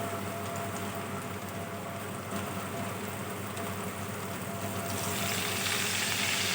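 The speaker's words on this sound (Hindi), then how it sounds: "इन्हें हमने गोल्डन ब्राउन कर लेना है, 5 से 7 मिनट तक फ्राई करना है।" Chicken manchurian pieces deep fry in hot oil over a medium flame, a loud, continuous close-up sizzle and crackle that holds steady and grows slightly brighter toward the end.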